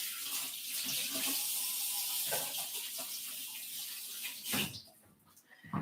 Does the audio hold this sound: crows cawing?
no